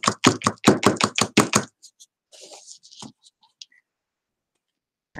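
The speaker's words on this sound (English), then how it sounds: "So we gotta knock off the excess and see where we're at." Excess rhinestones get knocked off a bejeweled dragonfly canvas: a fast run of about eight sharp, loud knocks close up, followed by faint scattered rattling and clicks as the stones fall, then quiet.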